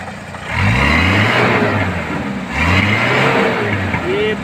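A Kia Sportage 1700cc running on CNG with a hydrogen kit is revved twice, the engine note swelling and falling in two rising pushes, close by, with voices talking over it.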